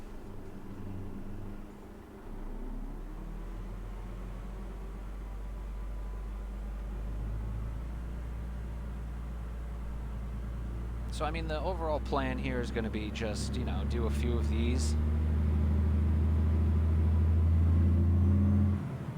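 Truck engine idling and pulling away in American Truck Simulator, a low steady rumble that builds louder toward the end, with someone talking over it throughout.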